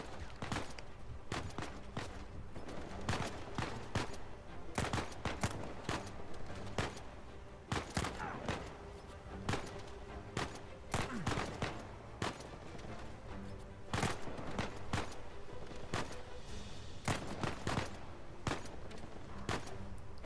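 Repeated assault rifle gunfire in the game Uncharted 4, dense bursts and single shots crackling throughout a firefight, with occasional footsteps amid the shooting.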